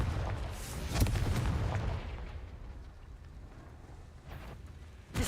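A Confringo fire spell exploding in the Hogwarts Legacy video game, a booming blast followed by a rumbling decay, with a second sharp burst near the end.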